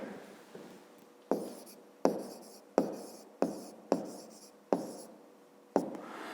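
Pen or pencil writing out a fifth-grade math solution on paper, with a series of about seven sharp stroke onsets each trailing into scratchy scribbling, close and fairly quiet, no talk.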